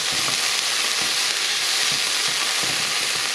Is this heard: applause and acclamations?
no